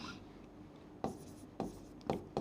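Chalk or marker writing on a board in a classroom, heard as several brief scratchy strokes spaced about half a second apart, quiet and close with a low background hum.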